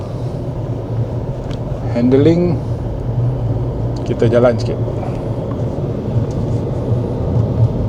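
Inside a 2026 Proton X70 on a test drive, a low engine and road rumble runs steadily under people talking.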